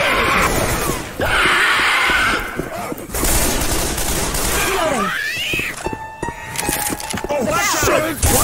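Rapid gunfire from survivors shooting zombies in Left 4 Dead 2's infected city, near continuous loud bursts mixed with shrieking infected and chaotic game effects, swelling and dropping over several seconds.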